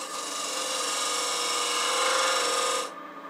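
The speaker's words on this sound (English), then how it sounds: "I'm going to switch to a very small detail gouge. This happens to be a quarter inch detail gouge." A quarter-inch detail gouge cuts into a holly wood box spinning on a lathe, giving a steady, close, rasping scrape for about three seconds before it cuts off abruptly.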